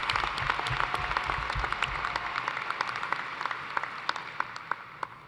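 Commencement ceremony audience applauding in a large hall, a dense patter of many hands that fades gradually over several seconds, with no voices.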